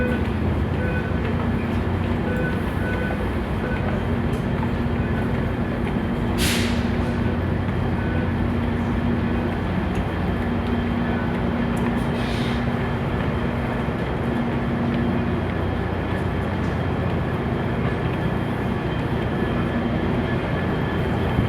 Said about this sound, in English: So this is where Amtrak comes, as well as the Sounder.